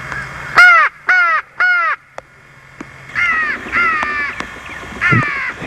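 Crows cawing during a crow hunt in Georgia, several harsh calls in quick bursts, with three strong caws up close followed by a looser run of calls a little farther off.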